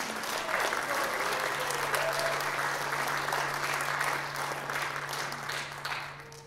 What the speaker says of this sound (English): Let's give another round of applause to Angie